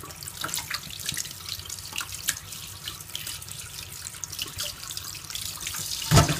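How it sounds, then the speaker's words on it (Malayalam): Running tap water splashes steadily into a sink while sardines are washed, a continuous close hiss with small splashes and a brief louder splash near the end. "Running വാട്ടറിലാണ് wash ചെയ്തെടുക്കേണ്ടത്."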